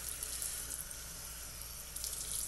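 Tap water runs steadily into a sink while a doll's hair is rinsed, a continuous close, full-bodied splashing hiss with no talking over it.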